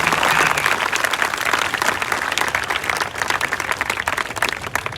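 A crowd audience claps together, loud and dense at first and then thinning into scattered, uneven claps.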